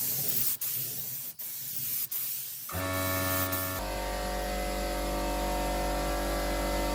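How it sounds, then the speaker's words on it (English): A spray gun lays a second coat of clear coat on a car door in a home garage, short hissing bursts giving way to a steady, loud, continuous spray hiss with a faint hum underneath. "The first complete layer of clear coat has dried and now I am applying the second layer."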